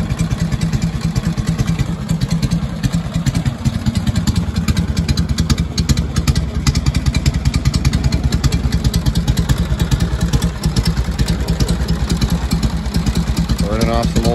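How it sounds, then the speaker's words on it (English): Loud, close 1947 Harley-Davidson Knucklehead engine idling with a steady, lumpy thumping beat and mechanical clatter, running continuously throughout. "Nice quiet engine."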